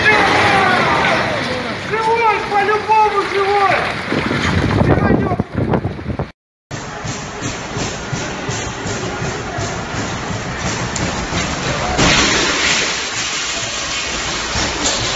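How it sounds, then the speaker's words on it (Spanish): Strong wind blasts and roars against the microphone as tower cranes are toppled in Russia, a loud, continuous gusting rush with a brief dropout, with people talking over it early on. "Grabado en Rusia, estas son grúas torres siendo derribadas."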